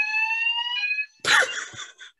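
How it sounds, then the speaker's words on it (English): An indoor fire alarm being tested gives a sustained electronic tone for about a second, then a short gap, then a harsher burst of buzzing alarm sound that fades out, loud and close. "That's testing the fire alarm."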